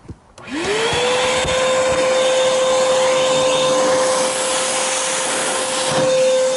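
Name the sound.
vacuum cleaner running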